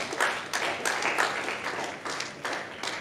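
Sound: congregation applauding in church

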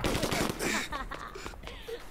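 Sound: gunfire in video game 25 to Life

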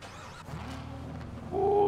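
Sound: car engine being started in a video game roleplay

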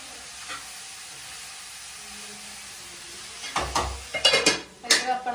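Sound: pumpkin frying in a pan

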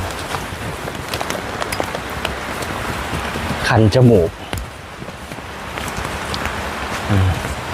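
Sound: rain falling

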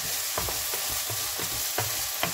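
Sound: stirring stir-fried oyster mushrooms in a pan

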